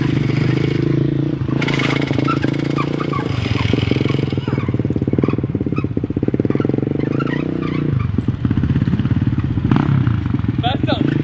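A 2017 Ford Mustang revs hard and spins its wheels on a yard, a loud throbbing engine roar with rattling clatter and scraping bursts, close by, with voices talking over it.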